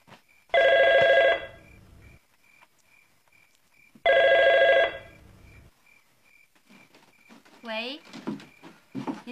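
A telephone rings loudly in two separate bursts about three seconds apart, with a quiet room between them, and people then begin talking after the second ring.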